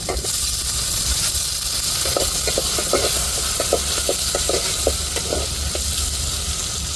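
Tomatoes frying in a pan for onion kuzhambu: a loud, steady hiss of hot oil with a run of quick rhythmic spatula taps in the middle.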